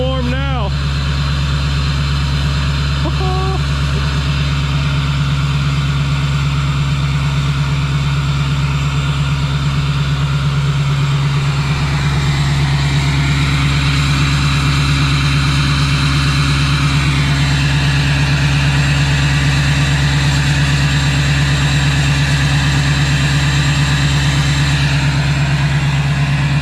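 A Duramax LBZ diesel engine idles after a cold start without glow plugs, a steady low rumble with constant mechanical tones holding close and loud throughout.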